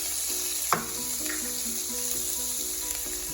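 Vegetables and spices sauteing in a pan for vegetable pulao, a steady sizzle with a sharp utensil tap near the start and light rhythmic stirring scrapes, no talking.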